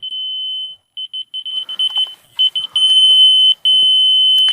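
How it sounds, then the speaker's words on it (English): A laser level receiver gives a high, piercing electronic beep, first as a long tone, then as rapid, irregular bursts that merge into longer continuous tones. "so that the receiver beeps"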